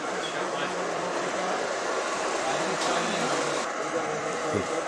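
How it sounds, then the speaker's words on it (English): A Ma and Pa Railroad train passes near Red Lion Station in Pennsylvania in February, a continuous broad rumble and rolling clatter that stays fairly loud and steady throughout, with no speech. "Here comes our train again with our train cam."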